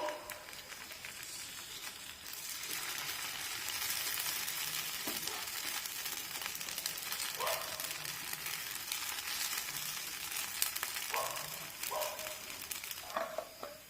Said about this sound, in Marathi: थोडस जाडसरच हे बॅटर पसरून घ्यायचं आहे